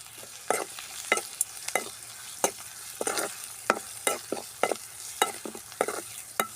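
Chopped ingredients sautéed in a pan for an evening fried snack with boiled potatoes, with steady sizzling broken by repeated sharp spatula scrapes and stirs at an irregular rhythm, close and fairly loud with no voices.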